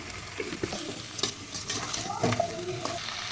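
Spiced mutton pieces being stir-fried and turned in a pan, a soft sizzle under repeated scraping and clinks of a spoon against the metal, with faint speech in the background.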